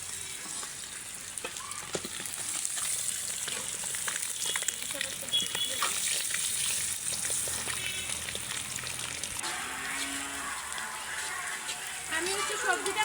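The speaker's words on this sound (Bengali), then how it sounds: "এখানে যে মরিচটা একটা ভালো করে একটু ভেজে নিলাম" Chillies fry in hot oil in a kadai, crackling and hissing continuously at moderate volume, with stirring and light clinks near the end, at an outdoor village picnic cookout.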